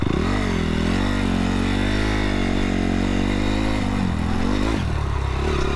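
Honda CRF 250R dirt bike, a 2017 model, riding off-road trails, its engine running loud and close throughout with steady throttle and a brief rise in revs near the end, mixed with clatter.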